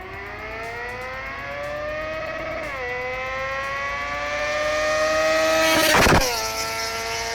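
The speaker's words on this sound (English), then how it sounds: "Have a quick listen to this and tell me you don't hear a screaming V10." A truck's V10 engine revs hard and rises to a high, screaming pitch. It shifts down briefly, then climbs again to a loud peak with a sharp burst, and no voice talks over it.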